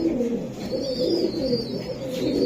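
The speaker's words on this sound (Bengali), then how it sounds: "এই যে আরেকটা কবুতর, এটা কি কবুতর দিলেন?" Racing pigeons at a sale coo in low, rolling murmurs close by, layered with faint chirps and a steady background hum.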